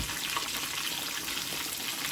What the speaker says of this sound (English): the intensity of the frying is not the same